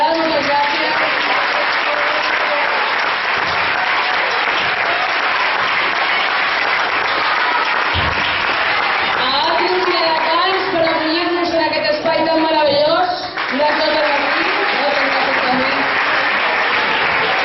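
Theatre audience applauds the technical crew at a school stage production, sustained dense clapping throughout, with voices and a brief louder tonal passage rising over it near the end.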